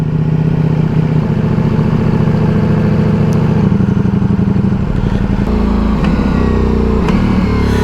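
A Ducati Multistrada Pikes Peak motorcycle in race mode accelerates hard, its loud engine roar climbing and then dropping sharply at each gear shift, close and continuous with no talking.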